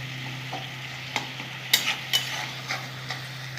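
Spice masala for an aar fish curry stir-frying in oil, a low steady hiss under scattered scraping stirs and a few sharp spoon clicks, close by with no voices.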